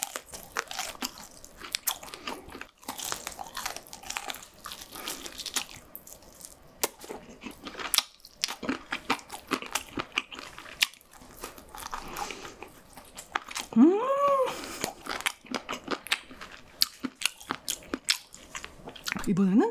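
Rose and white chicken pizza is bitten and chewed close to the mic, with crunchy bites and moist chewing throughout, a brief hum partway through and a voice talking now and then.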